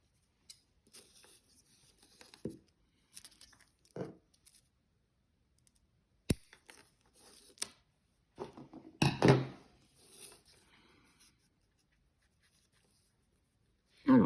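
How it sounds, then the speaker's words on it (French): Scissors snip away the excess elastic thread from a knotted bead bracelet: a few sparse, faint clicks and snips in a quiet room, with some handling noise between cuts. "On découpe ce qui dépasse."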